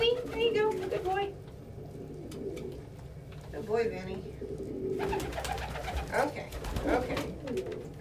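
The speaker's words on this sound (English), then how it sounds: "Look at these good birds." Pet pigeons or doves coo and call during treat time, soft repeated coos and murmurs close by, with a person talking gently over the birds.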